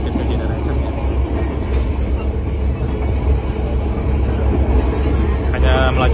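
A Kedung Sepur passenger train, New Generation executive class, running on rails between Semarang and Purwodadi at about 60 km/h, rumbling steadily with a loud continuous roar from inside or beside it, with faint voices mixed in.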